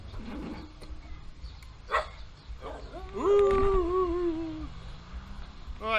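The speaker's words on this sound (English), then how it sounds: "what are you barking at?" A dog in a village barks in a few sharp, separate yaps, then lets out a longer wavering whine-like howl, fairly close amid quiet outdoor background.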